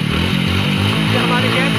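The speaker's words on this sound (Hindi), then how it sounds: "गाइस आप देख सकते हो बाइक ऑन हो गई है यार," A motorcycle engine running on biogas made from cow dung, idling close by with a steady low throbbing putter, its rhythm lightly rising and falling.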